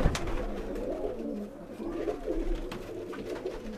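Pigeons cooing in a rooftop loft, soft repeated low coos close by with faint bird calls and rustling, fairly quiet throughout.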